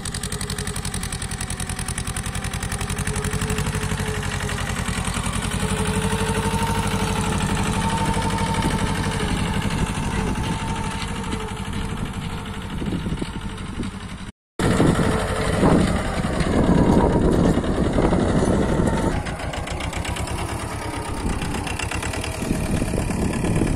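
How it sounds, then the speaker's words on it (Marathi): A Mahindra Jivo 245di 4WD tractor pulling a cultivator through a field in second gear, its engine running with a steady, loud drone throughout, briefly cutting out for a moment before resuming. "सेकंड गिअरवर चालले मित्रांनो, तुम्ही पाहू शकता एकदम फास्ट ट्रॅक्टर चालत आहे."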